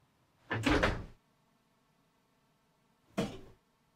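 An oven door opens with a broad thud and scrape, then closes again about two and a half seconds later with a shorter knock, as a pan of cornbread batter goes in; both sounds are near and distinct in a quiet kitchen.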